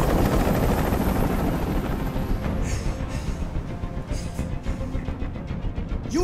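A helicopter hovers overhead in the video game Detroit: Become Human, a steady low rotor rumble and whine droning continuously at a fairly close distance with no speech.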